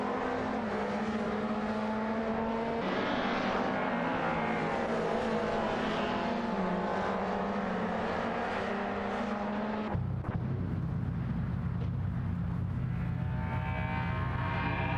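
Race cars in a racing video game roaring through corners, engines held at high rev and shifting pitch, then a sudden change to a different car sound partway through, loud and continuous with no talking.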